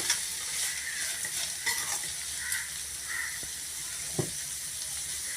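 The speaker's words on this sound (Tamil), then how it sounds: "உப்பு சேர்த்துட்டு நல்லா கலந்து விட்டுக்கலாம்." Cluster beans sizzle and fry in a pan while a utensil stirs and scrapes, with occasional light clinks, steady and close.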